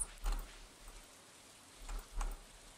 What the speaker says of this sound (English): That's raining again.